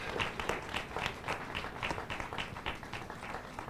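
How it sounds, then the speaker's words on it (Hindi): Audience applause at a spiritual discourse hall, a sustained round of many hands clapping in steady rhythm, moderately distant and continuous throughout. "आप अगर मेरी बात से समर्थन करें तो तालियां रुकनी नहीं चाहिए"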